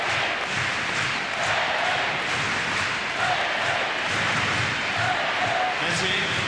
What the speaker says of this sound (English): Deafening racket coming from the crowd.